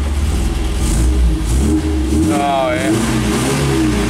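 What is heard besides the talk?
1970 MGB GT engine revving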